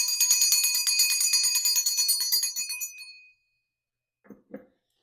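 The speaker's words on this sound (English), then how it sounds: "Use my mom's bell." A small hand bell rings with bright, shimmering metallic tones for about three seconds, fading out. Two soft knocks follow after a short silence.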